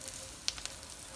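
Scrambled eggs sizzle in a pan with sausage fat on a stove at medium heat, giving a faint, steady frying hiss with a couple of small pops.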